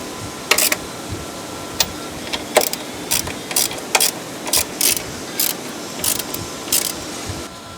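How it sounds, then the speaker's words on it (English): A ratchet tightens the top stud nuts on a vacuum plate during a Mercedes CLS 500 front suspension conversion, giving bursts of sharp close clicks in quick irregular runs with short pauses between. "Reinstall the vacuum plate and tighten the top stud nuts."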